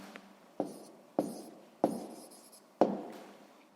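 Numbers being written down for a sixth-grade maths ratio exercise, four crisp tapping strokes of pen or chalk spaced about a second apart, each fading quickly, close and fairly quiet with no speech.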